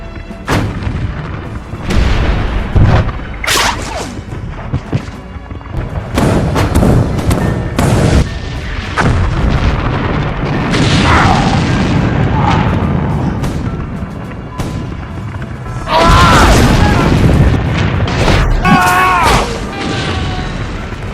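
Heavy cannon blasts from a LEGO Waterloo battle animation boom repeatedly at irregular intervals, loud and close, with voices talking and shouting between and under the shots.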